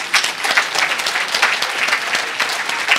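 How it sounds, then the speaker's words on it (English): Audience applause from a group at a memory-training talk, steady dense clapping that runs through the whole span without a break. "Give yourselves a round of applause."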